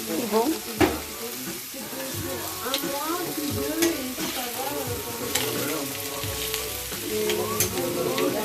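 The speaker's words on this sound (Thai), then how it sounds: "คืนนี้เราก็จะย่างบาร์บีคิวกันนะคะ" Steady sizzling and frying close by, a continuous crackle of barbecue grilling over heat with occasional louder pops and no talking.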